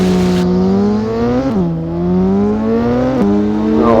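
Motorbike engine in a racing video game revs loudly and steadily, its pitch climbing in long sweeps and briefly dropping at two gear shifts before rising again, alone with no talk.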